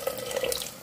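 Water from a tap or glass pours briefly into a pot of artichokes being cooked in sauce, a short splashy stream heard close up with no talking.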